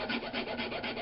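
A hand file rasps a flare off the end of a metal tube for a tube hinge, each stroke quick and rhythmic, about five or six scraping passes in close succession, loud and close with no talking.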